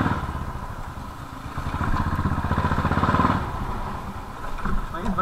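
Royal Enfield Bullet motorcycle running with a steady engine drone and clatter, close and loud throughout, with voices talking over it.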